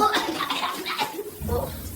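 Running water splashes and hisses as in a shower, with a faint voice murmuring underneath.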